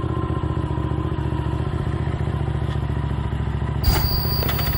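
Yamaha MT07 motorcycle engine running steadily near the mic, with a brief throttle blip and clatter near the end over a continuous low mechanical drone.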